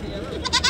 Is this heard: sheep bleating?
yes